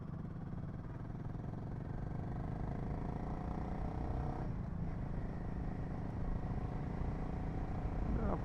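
A motorcycle engine drones steadily while riding on the road, a continuous low rumble with a faint clatter throughout and a slight swell near the end.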